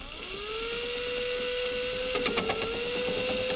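A drill with a worn, low-torque bit bores into a Nissan S14 car door panel, giving a steady rising whine that settles into a constant pitch, with rattling chatter near the end. A person speaks briefly over it.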